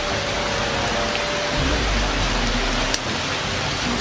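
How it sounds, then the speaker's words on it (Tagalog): Heavy rain pours down in a dense, constant wash of noise, loud and unbroken, with no voices. "Grabe, malakas yung ulan to."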